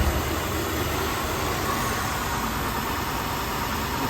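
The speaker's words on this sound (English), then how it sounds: "starts idling poorly" Car engine idling roughly with its coolant temperature sensor disconnected, a steady close engine drone that fills the whole clip without pause and with no voices over it.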